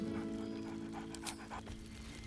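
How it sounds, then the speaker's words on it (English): A dog companion in the Baldur's Gate 3 video game pants in steady, close breaths, layered over a low, continuous game background hum, with no clear bark standing out. "Scratch barks merrily in something like agreement."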